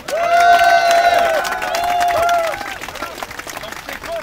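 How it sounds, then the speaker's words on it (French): Crowd at an electoral reform rally in Montreal clapping for the speakers, mixed with cheering and babble, fairly loud at first then thinning, with tonal sounds ringing over it. "une bonne main d'applaudissement"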